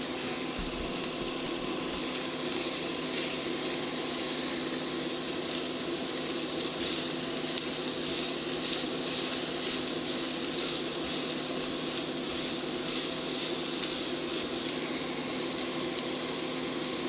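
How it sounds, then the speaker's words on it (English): Onions sautéing in a pan give a steady, even sizzle that holds at one level throughout, with no voices. "I love the smell of sauteing onions."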